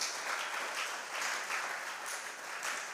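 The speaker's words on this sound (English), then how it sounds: "A round of applause, please." Applause breaks out at a school quiz competition after the scores are read, a dense and even wash of many hands clapping that continues steadily throughout.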